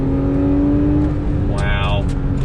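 Porsche 911 Carrera 4S pulling hard in third gear, its engine note rising steadily in a loud, close-up rev from inside the car, with a brief harmonic sweep near the end.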